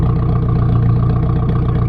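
A Nissan 240SX's KA engine idles loud and close through a newly installed exhaust, a steady deep burbling drone with a slight pulsing rhythm and no talking.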